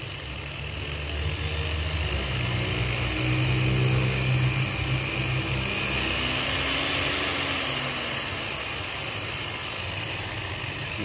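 Hand angle grinder powered through a 2000 W SCR dimmer, spinning in a continuous whining hum whose pitch rises and falls as the speed is adjusted, moderately loud and steady throughout.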